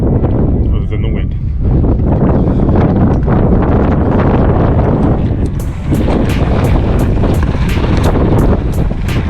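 Strong wind buffets the microphone outdoors on a riding day at a bike spot, a loud continuous rumbling roar that dips briefly and masks most other sound.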